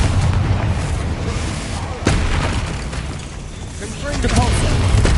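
Confringo fire spell blast in Hogwarts Legacy on PS5, a heavy booming burst followed by rumbling explosive crackle and further impacts, loud and layered over game sound.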